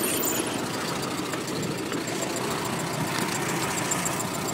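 A 1913 Ford Model T engine running steadily, loud and close, with a continuous rough idling rumble and knocking texture throughout.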